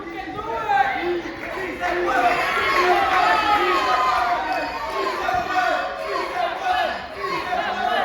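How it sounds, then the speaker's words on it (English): A wrestling show crowd chants and cheers steadily in a loud, packed venue, a continuous roar of many voices with rhythmic chanting and voices talking over it. "Si se puede, the crowd getting behind."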